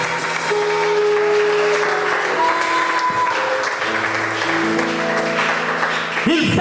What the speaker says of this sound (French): On acclame pour le Saint-Esprit de Dieu